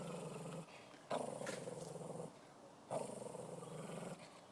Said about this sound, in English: And this is the dog he's growling at.